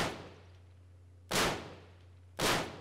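Gunfire in the military shooter game Arma 3: two sharp, loud shots about a second apart, each with a short decaying tail over a steady low engine hum.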